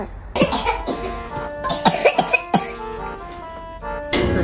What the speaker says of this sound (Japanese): とにかく二人とも咳がひどすぎる。